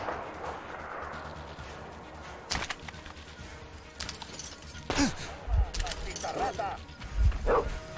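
A dog barks in the video game Metro Exodus, giving a few sharp, loud yelps amid gunfire-like bursts and game noise, with a player talking over it.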